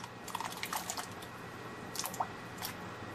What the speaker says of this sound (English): Add in your potatoes.